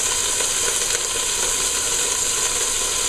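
Lobster tails sizzle as they cook over moderate heat in a home kitchen, a steady, bright hiss of frying that runs unbroken and fairly close.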